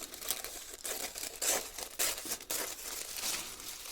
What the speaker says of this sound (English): this is sort of a printed gift wrap tissue. So it's got a little bit of body to it